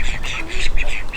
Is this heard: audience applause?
no